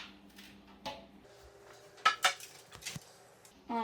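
Kitchen utensils for baking double chocolate cookies, a cookie scooper, baking pan and mat, handled with scattered clinks and clatters, a few sharp metallic knocks standing out over a quiet background.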